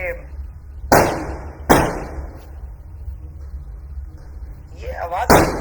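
Diwali firecrackers burst in three sharp, loud bangs spaced a second or more apart, each with a short noisy tail, over a steady low rumble in the background.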